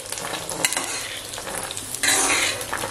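Peanuts roast in a dry pan while being stirred, giving close scraping and rattling with a soft sizzle that grows louder toward the end.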